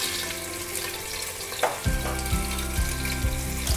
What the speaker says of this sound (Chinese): 我们要来煎鲑鱼